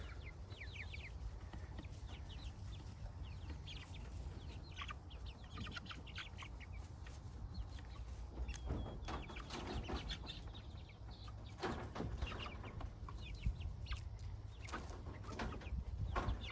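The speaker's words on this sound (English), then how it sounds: "Starting to get more of a clucky sound, a little bit less peepy, like a little bird." Six- to seven-week-old meat chickens cluck and chirp softly, a steady chorus of small peeps and clucks with faint rustling, no talking.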